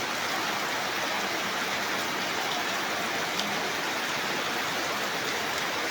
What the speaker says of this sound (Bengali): বিকেল বেলা দেখেন বৃষ্টি হইতেছে